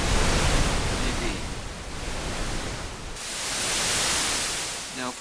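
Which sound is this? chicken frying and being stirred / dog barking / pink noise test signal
pink noise test signal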